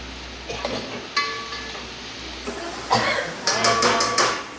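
Okra curry (bhinda nu rasa vadu shaak) is stirred in a pan, a spoon scraping and clinking against the metal over a steady sizzle, with heavier scrapes in the last seconds.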